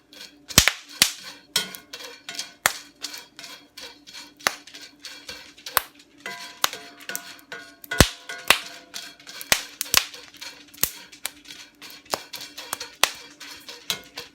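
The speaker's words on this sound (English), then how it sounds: "It's just kind of that kernel popping with some moisture." Corn kernels parching for survival food crack and pop one after another in sharp, irregular snaps, some loud and close, others faint, over a quiet low hum.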